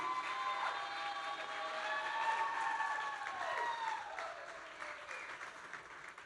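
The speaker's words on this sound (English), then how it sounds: "How about a big round of applause for Nikki," Wedding guests applauding at a reception, steady clapping filling the room with whistle-like tones layered over it, moderately loud throughout.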